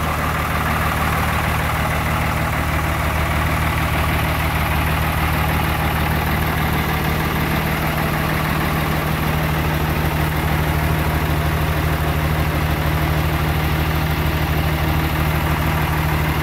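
A 1973 AM General M35A2 military truck engine idles with a loud, steady low diesel rumble and constant clatter, running evenly close by with no speech.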